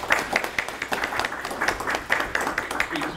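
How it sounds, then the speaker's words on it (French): An audience at a conference opening claps for a speaker: a dense, even patter of many hands at moderate loudness, sustained for about three seconds without talk. "la formidable Livin Porte, qu'on peut applaudir tout de suite d'ailleurs"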